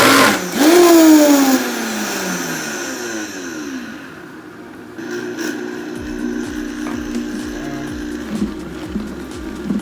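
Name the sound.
food processor blending ground beef with spices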